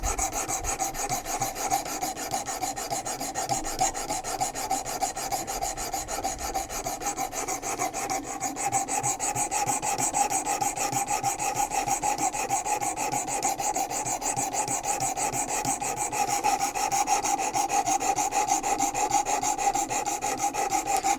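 Knife blade being sharpened on a WorkSharp Precision Adjust, a continuous close rhythmic rasping of rapid back-and-forth abrasive strokes against steel, steady and fairly loud with no talking.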